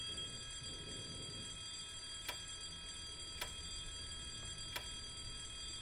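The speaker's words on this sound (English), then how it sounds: "nothing scared me so far except that alarm just" In the horror video game White Day, an alarm clock sounds as a constant high electronic tone with a few sharp periodic clicks over a low hum, quiet and steady, no talk.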